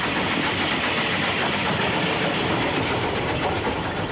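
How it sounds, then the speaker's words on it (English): Steam locomotive pulling an express, a dense steady roar of the engine's beat with rail joint clicks blended into the running noise, continuous and close. "I'm listening to the beat of the engine. I'm listening to the rail joints for my speed."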